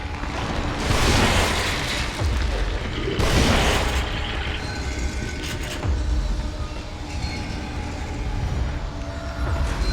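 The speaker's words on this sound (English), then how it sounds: "Those are well-placed grenades." Several grenades explode in the game The Evil Within as loud, heavy blasts, two big bursts followed by a third, each trailing into a sustained roar and rumble.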